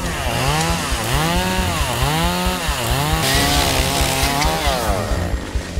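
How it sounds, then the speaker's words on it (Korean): A chainsaw cuts through bamboo in a bamboo forest, its engine loud and close, rising and falling continuously as the blade works through the stalks, with no talking. "전기톱 소리가 요란하다"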